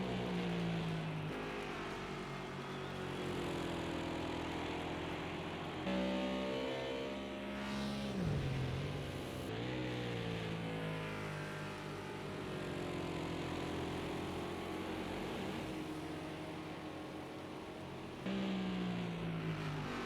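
GT3 race cars circling Laguna Seca in the Project CARS 2 racing game, engines droning and revving continuously with pitch rising and falling through gear changes, several cars audible at once, no talk.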